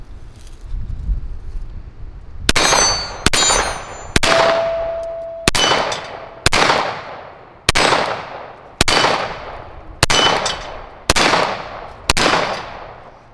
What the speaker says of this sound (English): We're going to see what we think of the SAR USA B6.